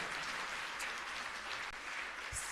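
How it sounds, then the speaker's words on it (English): Steady applause from a graduation ceremony audience at a coding academy, honoring the Prime Minister of Jamaica, fairly distant and continuous with no talk over it. "another round of applause for our fearless leader"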